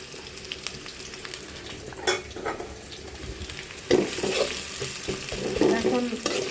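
Sliced onions and green chilies sizzle in hot oil in a cooking pot, a steady soft frying hiss with occasional stirring scrapes, close, with no talk.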